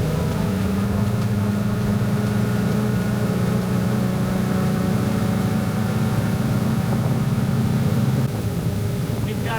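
A 2025 Tidewater 232 Adventure motorboat's engine drones steadily on plane, a constant loud hum with wind and water noise and no voices.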